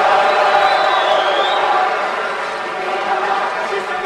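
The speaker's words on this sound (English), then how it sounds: "The crowd are urging her on there," A crowd cheers and urges on a fencer during a bout at the Baku 2015 European Games, a steady broad roar of voices filling the arena, loud at first and easing slightly.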